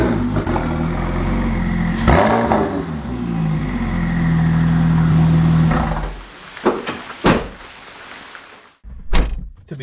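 Porsche 911 Turbo engine runs loudly with a rev that swells and settles into a steady hum, then cuts off, followed by several sharp thunks like car doors closing.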